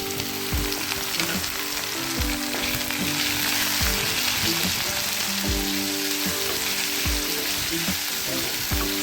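Chopped pirandai (veld grape) sautéing in a pan as part of making pirandai thuvaiyal: a steady, dense sizzle with scattered crackles and occasional low scraping stirs throughout.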